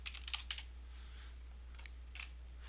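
Fingers tap out a username and password on a computer keyboard, a few quick, faint clusters of light key clicks separated by short pauses over a low steady hum.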